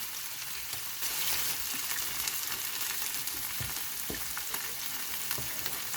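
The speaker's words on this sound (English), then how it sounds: "the hamburger patties are cooking pretty good on 300 degrees" Hamburger patties fry on a griddle at 300 degrees, giving a steady close hiss and fine crackle with a few soft taps, no voices.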